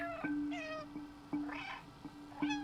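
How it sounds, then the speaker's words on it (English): A housecat meowing repeatedly in the video game Stray, with several separate rising meows at irregular intervals over a low steady hum from the game, fairly close and clear. "I'm just gonna keep repeatedly meowing"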